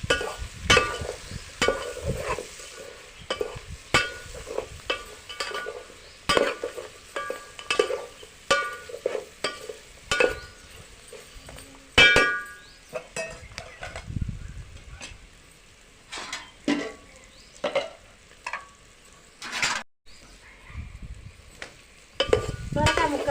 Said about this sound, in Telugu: మురక్కాయ ముక్కలు వేసుకోవాలి మంచిగా కలుపుకోవాలి